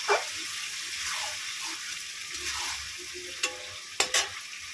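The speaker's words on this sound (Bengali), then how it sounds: "মেটেগুলো দিয়ে ভালো করে কষিয়ে নেবো" Liver sautéing in a pan for a Bengali chorchori, a dense continuous hissing sizzle with occasional stirring clatters and a couple of sharp clicks near the end, close and unaccompanied by talk.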